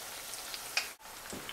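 Steady crackling sizzle of sweet banana puri dough frying in hot oil, with a few brief pops and a short dip midway.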